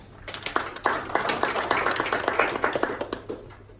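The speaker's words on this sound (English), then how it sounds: "can we just give ourselves again a round of applause?" A small master-class audience gives itself a round of applause, scattered hand claps that build into a brisk, uneven patter close by for several seconds, then begin to thin out.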